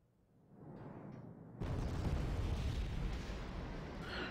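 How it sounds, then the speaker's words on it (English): Bombing in the Wargame Red Dragon strategy game: a low rumble builds, then a heavy explosion hits at about 1.6 seconds and rolls on as a sustained, roaring boom before easing off. "Still randomly bombing."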